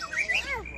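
A young white-rumped shama sings a short, bright whistled phrase with rising and falling notes, close and clear against a quiet background.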